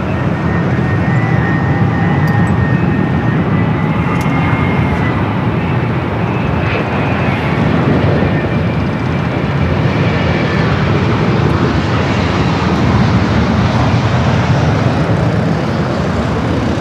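A Boeing 787 Dreamliner departs runway 24 left at Los Angeles International Airport, its jet engines producing a loud, continuous broadband roar that fills the whole stretch with no talking.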